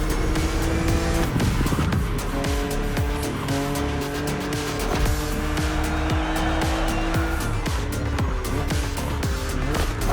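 A BMW Z roadster races in The Crew Motorfest, its engine roaring steadily through gear changes with tire squeal and skidding against an opponent's car, alone and close.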